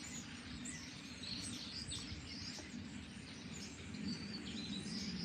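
Birds chirping outdoors, with small scattered high tweets over a dense, steady hiss of insects and ambient noise. The whole scene is faint and distant, with no voices.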